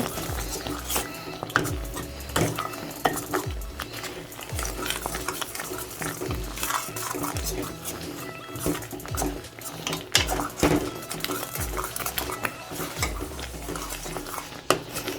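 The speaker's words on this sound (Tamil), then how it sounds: "தட்டிப்படாமல் வர வரைக்கும் நல்லா கிண்டலாம்." Thick ghee Mysore Pak batter is stirred steadily in a pan, the spoon scraping and knocking the metal in a busy, continuous rhythm with a soft sizzle of hot ghee underneath, loud and close.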